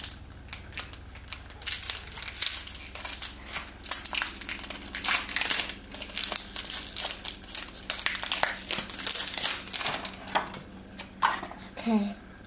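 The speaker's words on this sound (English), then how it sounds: "And let's open the packet." A Pokemon card foil packet being torn open: dense, continuous crinkling and ripping foil right up close, with brief snaps and crumples, under occasional light talking.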